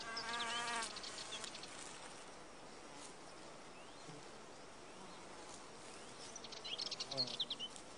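A male wasp buzzes at a wild orchid while trying to mate with it, a faint wavering drone that swells briefly near the start and again toward the end, with quiet outdoor ambience.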